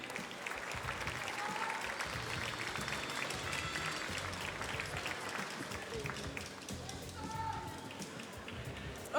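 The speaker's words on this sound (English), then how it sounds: "On les applaudit." A crowd applauds the pastry chefs and their teachers at a world pastry competition, with broad, continuous clapping filling the hall for around nine seconds under a busy, echoing room atmosphere.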